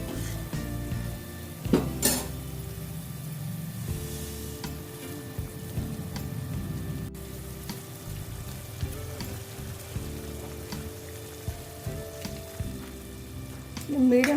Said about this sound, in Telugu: ఇది మరుగుతున్నాయండి. దీంట్లో ఇప్పుడు సేమియా వేసుకుందాం.